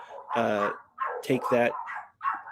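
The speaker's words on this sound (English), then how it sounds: "excuse my dogs; they're going nuts back there." Pet dogs barking in a house during a live Q&A, giving a few loud close barks with yips and whimpers in short bursts, mixed in with a person talking over them.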